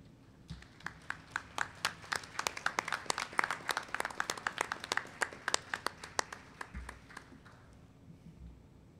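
Doctoral and education specialist graduates at a commencement clap for their families, producing a patter of distinct claps. It builds to a brisk, fairly dense peak, then thins out toward the end.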